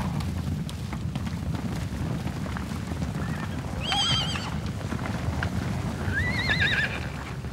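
Several horses whinny with rising, wavering high calls, one around the middle and another near the end, over a steady rumble of hooves trotting on open ground outdoors.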